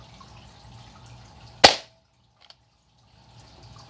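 A Nerf Rival Overwatch Magnus blaster fires one foam ball with a single loud, sharp pop. A faint small click follows a moment later in an otherwise quiet room.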